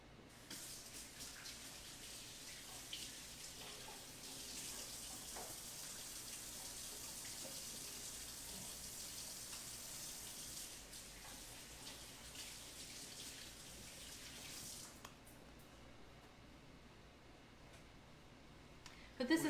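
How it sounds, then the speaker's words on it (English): Tap water running steadily while hands are rinsed at a sink, a faint, even hiss of the stream that stops near the end, no talking. "I'm gonna rinse my hands real quick."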